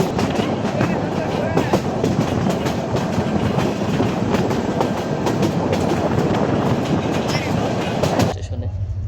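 Kishoreganj Express passenger train rolling steadily along the rails, a loud continuous rumble with rhythmic clicks from the wheels, cutting off abruptly near the end.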